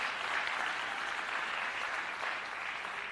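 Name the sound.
audience applause at TEDx talk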